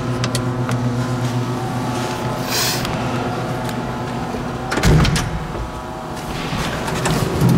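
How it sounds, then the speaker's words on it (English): Windshield wipers run on a 1969 Camaro, a steady close motor whir with a low mechanical hum, repeated sweeping swishes and one firmer thump partway through. "Wipers are working."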